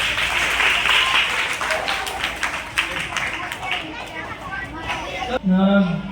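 A group of people claps together in a lively indoor gathering, dense overlapping claps with chatter and voices mixed in, ending in a short burst of talk.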